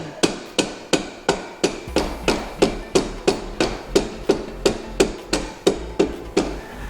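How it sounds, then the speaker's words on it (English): A rubber mallet knocks a rear axle key into place on a go-kart, about twenty steady, evenly spaced strikes, close and sharp, with nothing else heard. "We're going to need to give it a little bit of love with the rubber mallet."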